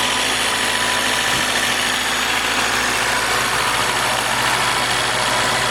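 A Willys L134 engine idles steadily during break-in, a constant low rumble with an even mechanical vibration running close and loud throughout, with no voices.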